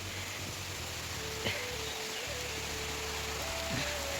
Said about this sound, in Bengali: বৃষ্টি হচ্ছে কিন্তু ওই কচিপাতার দিকে তাকালে বুঝতে পারবে কিরম বৃষ্টি হচ্ছে